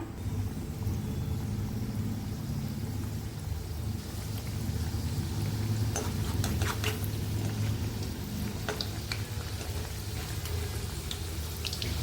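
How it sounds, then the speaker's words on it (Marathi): Coconut-filled karanji frying in oil in a kadhai over a medium gas flame: a steady, close sizzle with scattered sharp pops and crackles, and no talking. "आता मी तळून दाखवते कशा तळायच्या त्या."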